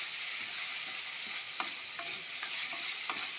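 Fresh ginger garlic paste fries in a pan with a steady close hiss, and a few light scrapes of stirring break through the sizzle.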